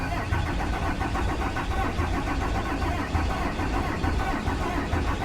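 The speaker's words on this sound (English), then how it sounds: "Okay, I'll try it one more time, but it's not gonna run." A 1974 Chevy truck, out of diesel fuel, cranks steadily without catching, its starter-driven engine churning in a continuous close, loud rhythm for several seconds with no talk over it.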